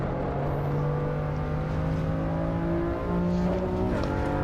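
Race car engine in the video game AC EVO holds a steady, loud drone with sustained tonal harmonics, shifting pitch slightly near the end as the revs change, with no talking.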